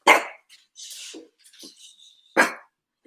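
Small dog barks in sharp bursts close by, a loud yap at the start and another near the end, with fainter whines and a thin whistling whimper between them.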